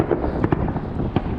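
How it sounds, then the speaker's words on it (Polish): Firecrackers going off on New Year's Eve in Nuuk, Greenland: a few sharp pops and bangs rise out of a dense, noisy outdoor background, brief and moderately loud. "Dopiero 15, a już teraz idą takie petardy."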